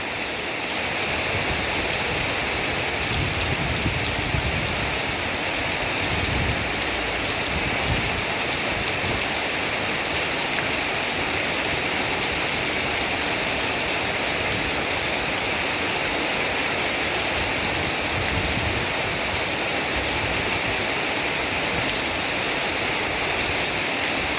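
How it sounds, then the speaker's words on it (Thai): Rainwater pours heavily off a roof during a storm with strong wind, a loud, unbroken hiss and splash of falling water with occasional low gusts, constant for the whole stretch and with no talk. "อันนี้เป็นน้ำตกลงมาจากหลังคา"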